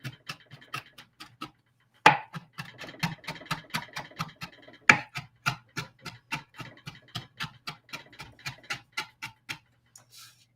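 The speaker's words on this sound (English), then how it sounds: "Mincing it really helps it release all of its flavor, so I like to get it nice and small." A knife minces fresh ginger on a cutting board in quick, regular taps, dozens of crisp knocks close by, with a denser flurry of chops in the middle and the rhythm slowing toward the end.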